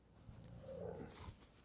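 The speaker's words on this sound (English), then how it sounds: "What you growling at, Angel?" A low, rumbling dog growl rises for about a second, fairly close and quiet, with no talking over it.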